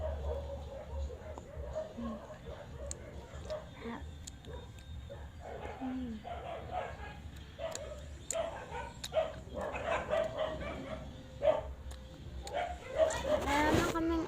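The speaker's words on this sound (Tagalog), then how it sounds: "Meron na kaming aso guys." Dogs at home give faint yips and whimpering little barks scattered under ongoing talk and household noise, with a louder burst of activity near the end.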